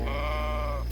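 A sheep in the French countryside gives a single loud, close bleat about a second long, with a steady wavering pitch over a low background rumble.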